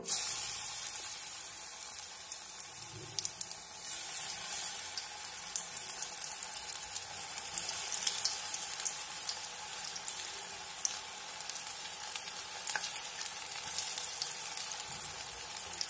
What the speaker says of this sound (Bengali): পকোড়াটা ভাজার জন্য এখানে আমি কড়াইয়ের মধ্যে সরষের তেল গরম বসিয়ে দিয়েছি